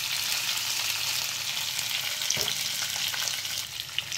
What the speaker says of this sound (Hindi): अब हम इसमें डाल देंगे अपने ये कटे हुए आलू और इसको कर देंगे मिक्स। और 1 मिनट के लिए हम इसे ऐसे ही पका लेंगे।